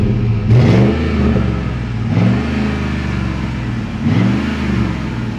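A stock Ford Raptor pickup with factory side exhaust is revved three times, each throaty engine surge rising and falling close by over a steady idle, with no talking.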